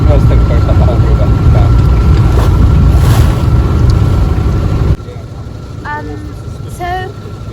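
A motorboat heading up a river, its engine rumbling loud and steady with wind buffeting the microphone, then the sound drops sharply partway through to a quieter engine hum as birds chirp nearby.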